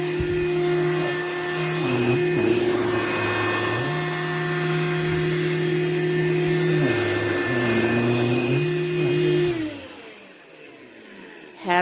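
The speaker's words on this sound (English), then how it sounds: "Has the little vacuum underneath it, moves, so it picks up everything you need picked up." A Powools cordless handheld pet hair vacuum runs steadily with a whining motor hum that shifts pitch slightly as it moves over a surface, then cuts off near the end.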